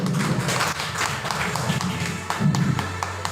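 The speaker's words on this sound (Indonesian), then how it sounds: "Tepuk tangan dulu buat kita semua Bapak Ibu." An audience of teachers gives applause at a school presentation, a dense wash of hand clapping that runs throughout, with voices mixed underneath.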